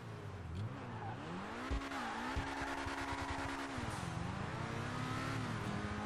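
Car engine in the GTA 5 video game, droning and rising and falling in pitch with revs, with hints of tire squeal; steady and fairly loud throughout, no talking.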